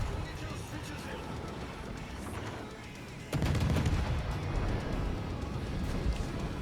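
Naval gunfire from a warship in the World of Warships game, a dense barrage of shots that steps up sharply in loudness partway through, with rolling booms over a steady battle din.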